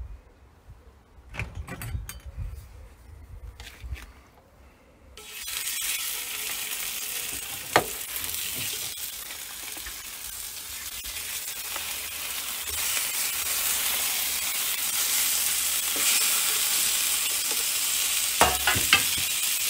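Food fries on a grill over South African black wattle charcoal, a steady bright sizzle that starts after a few seconds of quiet with light clatter and then holds loud and continuous.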